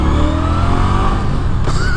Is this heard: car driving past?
yes